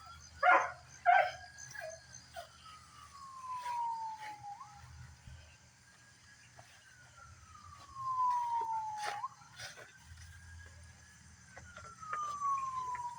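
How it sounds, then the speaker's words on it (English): A dog barks and whimpers at passing emergency sirens, the sirens rising and falling in long sweeping wails at a moderate distance while short bursts of barking come near the start and again midway. "Oh, he's barking because of sirens."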